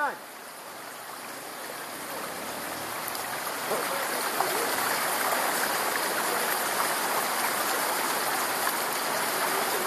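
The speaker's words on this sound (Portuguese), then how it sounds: "Nossa, é água demais, tô com medo daqui" Rushing floodwater during a flood in Teófilo Otoni, Brazil: a loud, dense, continuous roar of churning water that swells slightly after a moment and holds steady, close by.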